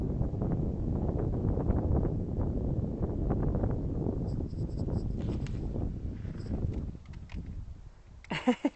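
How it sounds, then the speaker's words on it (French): Light wind buffets the microphone outdoors near the Pyramids of Euseigne, a constant low rumbling roar that eases later, with faint rustling and a few brief knocks at the end. "Un petit peu de vent."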